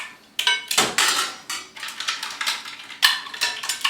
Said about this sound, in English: we're going to take some of the mussels and we're going to align them around the outside of the bowl